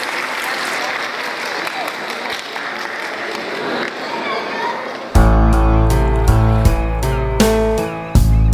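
Audience applause at the international children's song festival "Muzički branovi" in Kočani, May 2016: a dense crowd clapping for about five seconds, then loud band music starts abruptly and takes over.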